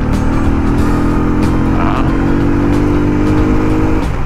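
A Motorstar Zest 110 motorcycle engine revs loudly and continuously during a test ride, its steady drone climbing slightly in pitch with wind rush over the top.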